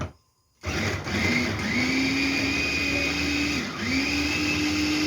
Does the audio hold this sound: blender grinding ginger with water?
yes